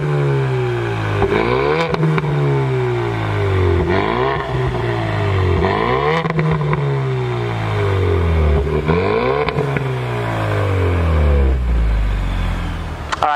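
A 2019 Ford Mustang EcoBoost with active exhaust revs repeatedly, its loud engine note climbing and dropping in a steady series of throttle blips. Each rev rises sharply, then falls back over the whole run with no talking.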